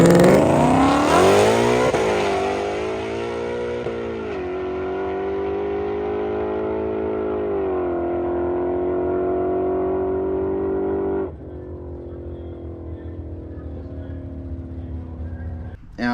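A supercharged Ford Mustang GT500 launches down a drag strip, its engine roaring loud and close and climbing through several upshifts, then fading sharply as the car pulls away into the distance.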